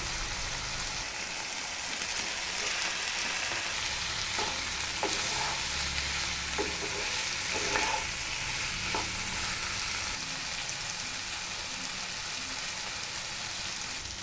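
Steady, dense sizzling of soybeans frying in a pan with tomato paste, with occasional stirring scrapes and clicks, continuous and close throughout.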